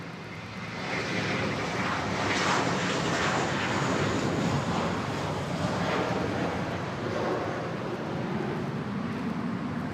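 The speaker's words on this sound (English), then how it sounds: "Takeoff Philippine Airlines A321 off to Cebu." A Philippine Airlines Airbus A321 takes off at Manila Airport bound for Cebu, its jet engines building to a loud, sustained roar that stays close and steady throughout, with some wind noise on the microphone.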